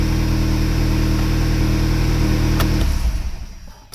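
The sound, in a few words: Volkswagen Golf GTI engine rough idling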